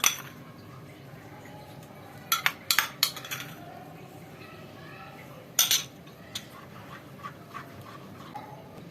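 Cream being stirred into a kunafa cheese mixture in a pan, heard as intermittent metallic spoon clinks and scrapes against the pan over a low, steady background, with no speech.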